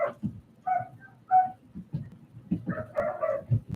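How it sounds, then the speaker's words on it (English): Dogs scuffle upstairs, muffled and somewhat distant, with a run of short yips, whines and barks in uneven bursts. "I don't think the dogs are getting along upstairs"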